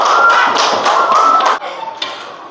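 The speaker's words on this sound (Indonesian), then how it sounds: "Tepuk tangan untuk kelompok badak." Schoolchildren in a classroom give a burst of loud, close applause for the rhino group, the clapping fading into scattered claps after a second and a half.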